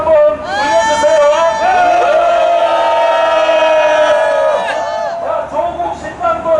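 A rally crowd roars a loud, sustained cheer of many voices shouting together, swelling and holding for several seconds before breaking into scattered calls.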